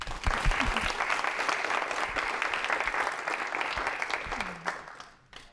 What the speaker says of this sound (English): I just want to ask if we all can give a round of applause to all the speakers who've presented so far.